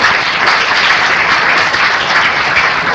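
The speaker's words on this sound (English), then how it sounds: "Quick round of applause, please" Steady applause from an audience at a city candidate forum in Fort Lauderdale, dense clapping held at an even level throughout without pause.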